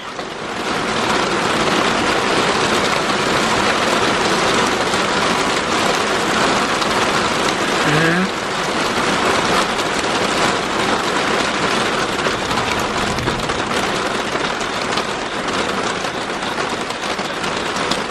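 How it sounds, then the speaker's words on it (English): Steady, loud rain falls outdoors, a dense continuous hiss of drops pattering on surfaces throughout, with no voices. "it starts raining out here."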